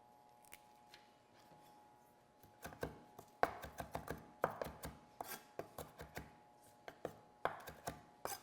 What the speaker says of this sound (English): I'm going to just take a few leaves off and chop those up for garnish